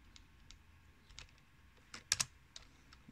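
Sparse, quiet keystrokes on a computer keyboard, a few scattered taps and a brief cluster of sharper clicks near the middle, close and otherwise silent.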